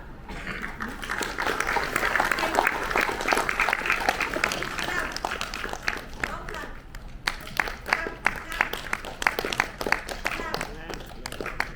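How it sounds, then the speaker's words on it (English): An audience at a session on ethical media claps hands, sharp scattered claps standing out more clearly in the later part, with a person talking over much of it. "So all of you please do a clapping."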